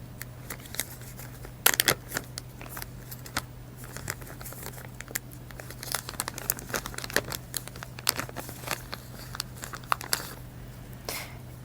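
Packaging around a fuel injector valve assembly is opened: crinkling and rustling plastic or paper with scattered sharp crackles and tearing bursts, close and fairly quiet, over a steady low hum, with no speech.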